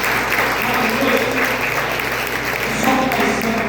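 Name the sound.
applause in church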